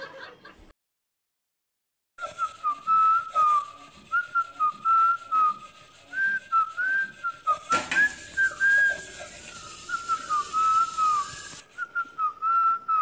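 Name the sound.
man whistling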